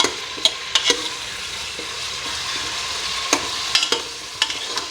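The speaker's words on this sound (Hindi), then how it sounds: "ये देखो इस तरीके से मैं इसमें अच्छे तरीके से फ्राई करते जाऊँगी।" Beef for nihari fries in a pot with a steady, close hiss of sizzling oil, broken by sharp clacks and scrapes as the meat is stirred, with no talking.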